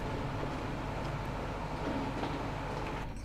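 High-speed passenger train rushing along in the transport simulation game Transport Fever, a continuous rolling rumble with faint rail clatter, steady and moderately distant.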